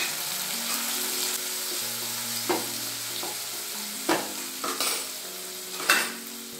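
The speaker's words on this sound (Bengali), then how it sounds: "তেলটা গরম হয়ে গিয়েছে, আমি আলুগুলোকে একটু ভেজে নিচ্ছি" Potatoes fry in hot oil seasoned with salt and turmeric, a continuous bright sizzle with occasional scraping stirs and utensil clinks against the pan, close and steady.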